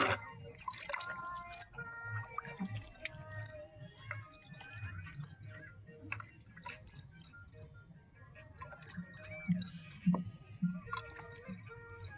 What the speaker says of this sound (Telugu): ఇప్పుడు వాటర్ చలుకుందో